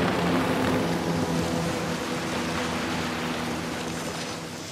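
A motorboat passing far off on open sea, a faint, steady low engine drone with a hazy wash of water noise that slowly fades away, with no voices.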